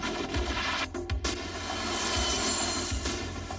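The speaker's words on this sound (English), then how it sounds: "As our plane landed, gasoline trucks rushed up to begin the fuel transfer." A C-130 Hercules transport plane lands with a loud, steady engine drone and a few low thumps underneath, heard close with no speech.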